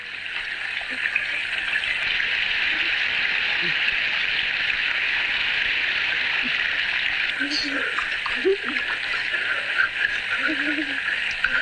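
Heavy rain pours steadily in a dense, unbroken hiss that stays loud and even throughout, with a few faint voices and small sounds underneath.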